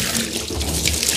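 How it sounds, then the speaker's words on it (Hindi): Water pouring and splashing steadily into vessels as utensils and a large drum are washed, close and continuous, with no talking. "लीजिए सब में डाल दे रहे हैं पानी, जल्दी से बर्तन धोइए"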